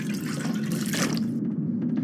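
Water running and splashing as it is collected in The Long Dark video game, a steady close gurgling flow that cuts off abruptly near the end.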